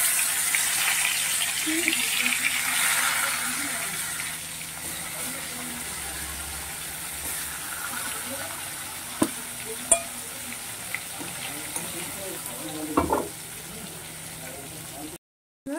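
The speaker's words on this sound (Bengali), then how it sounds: "এবার বাকি মাছগুলোকে আমি ভেজে নেব।" Bhola fish pieces fry in hot oil, a steady sizzle and crackle through most of the stretch with a few sharp clicks and clatters of a utensil, fading toward the end before a brief silence.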